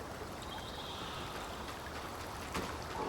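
A freshwater brook at Hydra's Brook in the video game Eternal Strands flows in a soft, continuous trickle, faint and steady, with nothing else standing out.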